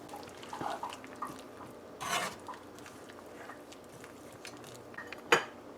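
A spoon clinks and scrapes against a pot as coconut milk is stirred into a papaya shrimp curry, a few light knocks and one sharper clink near the end over a quiet background.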